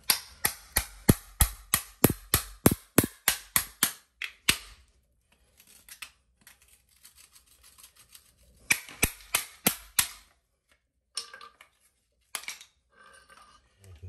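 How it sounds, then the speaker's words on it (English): Chisel knocking out a broken toilet flange set in a cement floor: a rapid run of sharp, loud metallic strikes, then scattered lighter taps and a second short burst of blows, with quiet gaps between. "Next, I'm going to try and chisel that piece out."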